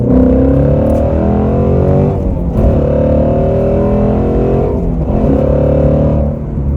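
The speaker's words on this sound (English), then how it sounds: "To hear this engine singing sweet exhaust notes to my eardrums" A Ford Shelby GT350's engine and exhaust drone loudly and close up, with a steady deep roar that rises and falls slightly through brief shifts in throttle.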